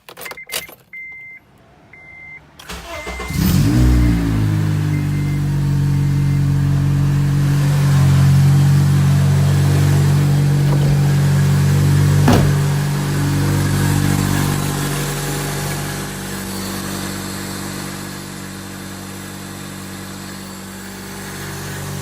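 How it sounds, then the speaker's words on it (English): An Acura RSX engine cranks and catches a couple of seconds in, then idles steadily and loudly up close after a power steering line replacement, with no talking. "turn on the car and steer left to right"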